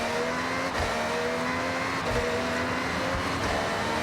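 A Ferrari F50 GT in Forza Horizon revs loudly and continuously, a dense high-pitched engine roar with slight rises in pitch and no talking over it.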